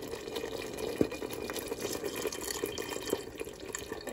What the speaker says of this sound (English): Shake that up and pour it in the pot.